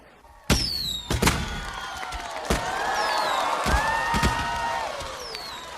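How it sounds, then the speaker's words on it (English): Fireworks burst at Cincinnati's 45th Riverfest as a series of sharp booms over a steady murmur of the outdoor crowd, with whistling rising shells between the blasts. "please enjoy tonight's Cincinnati's 45th Riverfest fireworks"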